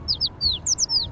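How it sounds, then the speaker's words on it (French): A bird squawks and chirps in the video game Little Kitty Big City, giving a quick series of about six sharp, high calls over a faint background. "Il y a un oiseau qui s'en vient."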